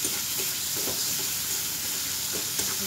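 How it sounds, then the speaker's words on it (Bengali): Tomato frying in a pan: a continuous close sizzle and hiss with a few faint stirring scrapes, fairly even in loudness, no voices. "টমেটোটা একটু ভেজে দিই, নরম হয়ে গেছে, একটু ভেজে দিলেই হবে"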